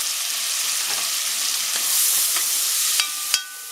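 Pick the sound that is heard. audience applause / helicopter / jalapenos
jalapenos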